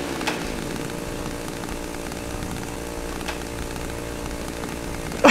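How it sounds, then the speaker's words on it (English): Chainsaw from the horror video game Cry of Fear, a loud, steady, buzzing motor drone running continuously with a sudden louder burst at the very end and no voices. "No, not the chainsaw, not chainsaws, mate."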